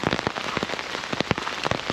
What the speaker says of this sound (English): It's been raining a lot over here this morning.